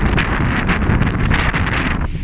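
Strong wind buffets across a ship's deck while the vessel is underway, a loud, gusty roar pulsing in uneven surges close to the microphone.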